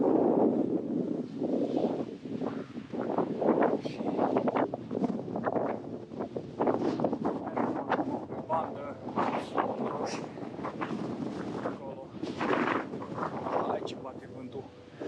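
Strong wind buffets the microphone on the exposed ridge of Piatra Secuiului near Rimetea in the Apuseni Mountains, gusting loudly and unevenly throughout, with people talking intermittently beneath the roar.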